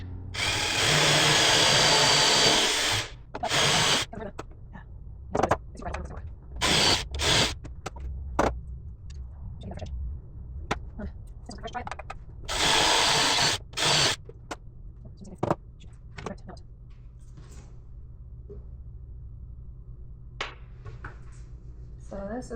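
Power drill driving screws into a camper table frame during a Del Rey camper rebuild, with several loud whirring bursts of varying length separated by pauses, close by, alongside occasional talk and handling knocks.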